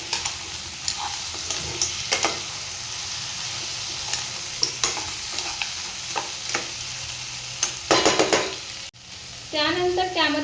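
A spicy shell curry masala is stirred in a hot pan, giving repeated scraping strokes over a low steady sizzle, with a few louder clanks of the spoon near the end.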